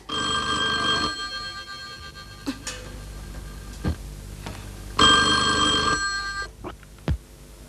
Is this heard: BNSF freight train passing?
no